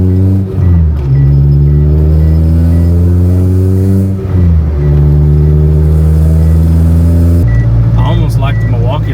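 An EF wagon fitted with a B18 engine drives and accelerates, loud in-cabin engine drone rising in pitch through gears with brief dips at shifts, continuous throughout.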